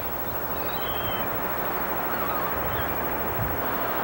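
Seagulls calling over a beach at Ocean City, New Jersey, a few scattered cries over a steady wash of surf and wind noise, with no talking.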